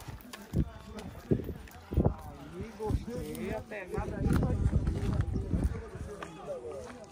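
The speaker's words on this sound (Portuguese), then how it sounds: "Vamos dar uma aquecidinha nos cavalos." Horses being warmed up by Bahia cowboys before a cattle-pulling event, their hooves clip-clopping in a loose, uneven rhythm at close range under steady talk from people nearby.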